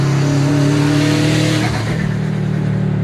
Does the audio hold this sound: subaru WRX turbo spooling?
yes